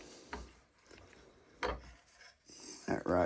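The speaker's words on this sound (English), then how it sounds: "and we'll take a chisel." A chisel scraping and rasping against a laminated chainsaw bar clamped in a vise, a few close, separate scrapes and knocks with quiet pauses between and a brief voice near the end.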